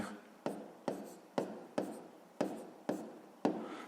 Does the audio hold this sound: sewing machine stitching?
no